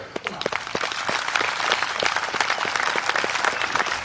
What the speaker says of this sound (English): how about a nice hand again for our World War II veterans?